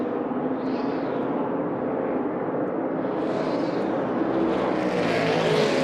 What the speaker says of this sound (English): we did hear the engine run, but it sounded flat